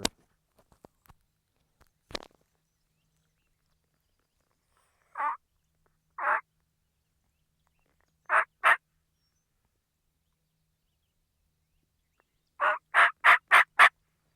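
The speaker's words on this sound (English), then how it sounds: "I'm just trying to have him gobble again" A wild turkey gobbles in scattered bursts at a moderate distance: two single calls, a quick pair, then a rapid run of five gobbles, with quiet between.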